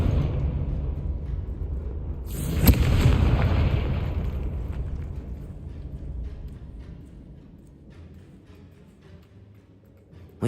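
Confringo spell in the Hogwarts Legacy video game, a sudden sharp blast followed by a rumbling roar that slowly fades away, with no speech.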